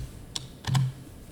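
A few quick keystrokes on a computer keyboard during CAD surveying drafting work: two light taps and then a slightly longer clustered press, close and clean, with no talking.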